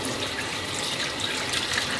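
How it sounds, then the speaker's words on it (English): Tap water runs steadily into a sink during handwashing before cooking, a continuous close hiss and splash with no pauses. "wash our hands"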